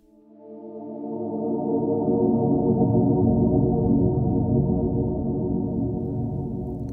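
Fully wet octave-down pitch-shifted delay signal alone, a deep sustained tonal drone that swells in over the first second or two and holds steady to the end.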